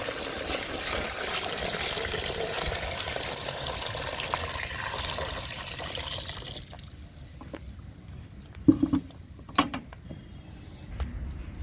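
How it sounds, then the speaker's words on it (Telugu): Water pours steadily into a bucket of chopped neem leaves in a continuous splashing stream for several seconds, then stops, leaving a few faint knocks and drips in a quiet setting. "పోస్తున్నాను వాటర్ని."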